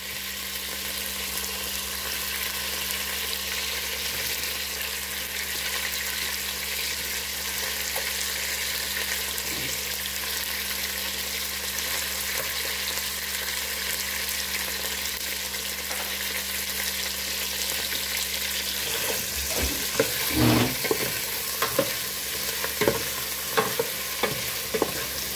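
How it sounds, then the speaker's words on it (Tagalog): Sliced onion fries in a pan with a constant loud sizzle that hisses evenly for a long stretch. Near the end, clattering stirs and scrapes come in close, with no speech over it. "we will put the sliced onion."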